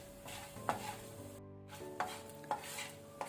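Coriander seeds and dry red chillies roasting in a pan on a low flame, stirred with a few soft scrapes and clinks over a faint dry crackle, close and quiet.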